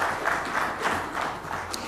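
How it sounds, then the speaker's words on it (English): Audience applause for a conference panel, a steady dense wash of many hands clapping filling the room without a break, moderately loud and close. "Please give them a big,"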